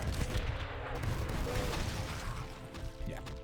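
Rocket launcher blasts in a modded Doom game, heavy booming explosions and crashing hits, loud and continuous for a few seconds with no talking.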